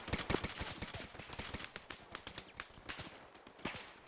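Rapid bursts of close gunfire in the Arma 3 military video game during fast urban combat, with sharp cracks in irregular volleys over a continuous busy background.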